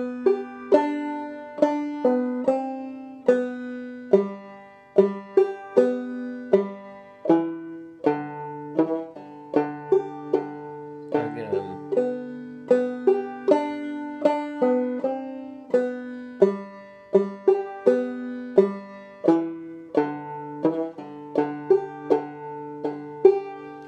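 Low part of the folk tune Blue Goose played on a plucked string instrument, with open strings and pull-offs: a steady run of clear picked notes in an even rhythm, close and alone.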